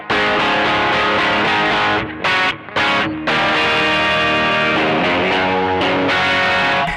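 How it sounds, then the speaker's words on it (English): Electric guitar driven through a distortion pedal, playing thick, saturated chords that ring continuously with two brief pauses in the middle, loud and close with no voices. "So here's distortion."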